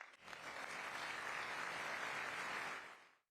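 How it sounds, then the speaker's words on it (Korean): A standing ovation for the president during the State of the Union address: a dense, far-off wash of crowd applause that swells quickly, holds steady for about three seconds, then drops away. "그 연설 동안 대통령이 받은 기립박수 중 하나였어요"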